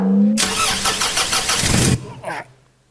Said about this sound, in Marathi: ही चावी आहे ती गाडी स्टार्ट करता